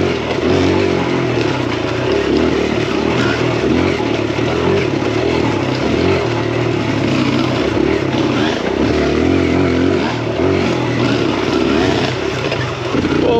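A Kawasaki KLX140RF dirt bike ridden hard, its engine loud and close with a continuous buzzing drone that rises and falls slightly as the throttle is worked, steady for the whole stretch with no talk.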